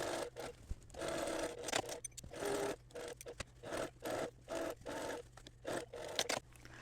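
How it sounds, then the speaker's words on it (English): A sewing machine stitches a 3/8 inch seam on a reversible petal wrap dress, running in short rhythmic bursts with brief pauses between them, close and fairly quiet. "I'm going to sew that with a 3/8 inch seam."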